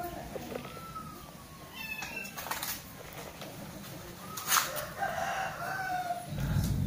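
A cat meows several times with short, rising and falling calls close by, over a noisy background. Indistinct voices are faintly present.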